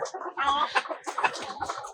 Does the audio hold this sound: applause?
no